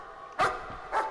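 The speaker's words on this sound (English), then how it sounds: "Aw, good puppy noises." A dog in the horror video game Layers of Fear barks twice in quick succession, two short, fairly loud woofs heard clearly and alone.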